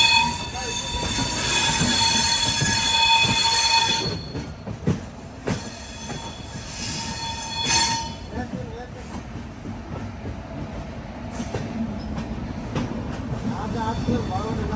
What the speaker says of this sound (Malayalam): അങ്ങനെ മുംബൈ CSMT റെയിൽവേ സ്റ്റേഷനിലേക്ക് ഇതാ ട്രെയിൻ എത്തിക്കൊണ്ടിരിക്കുകയാണ്.